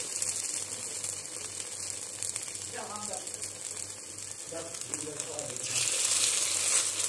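Sago tikki frying in oil, a continuous soft sizzle and crackle at low heat that swells louder near the end, with a few faint clicks from a spatula and a voice speaking over it.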